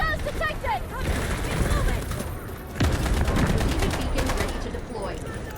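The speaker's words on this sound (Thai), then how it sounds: "ไม่ทันว่ะปืนเราลั่นช้าเกิน" Rapid gunfire from a PTR-32 assault rifle in the shooter game Delta Force, with dense volleys of loud shots running through most of the stretch and a voice talking over parts of it.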